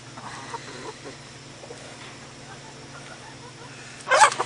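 Chickens cluck softly in the background over a low hum, followed by a louder burst of clucking near the end.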